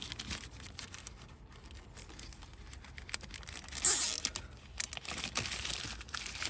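A protective cover being zipped shut during intake manifold cleaning on a Ford Ranger/Everest or Mazda BT-50 3.2 engine, with crinkly plastic rustling and one sharp, louder zip-like burst near the middle.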